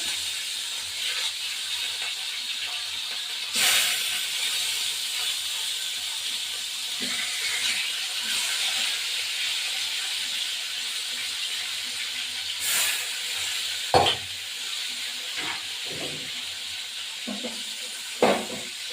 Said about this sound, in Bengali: এই যে কাতলা মাছ এই রুই মাছ দিয়ে দিলাম ভাজা দিলাম